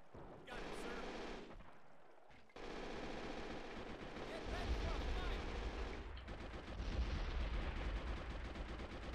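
MG42 machine gun firing in the video game Men of War: Assault Squad 2, long dense bursts of rapid automatic fire with heavy low rumble, a short pause between volleys, continuous and loud.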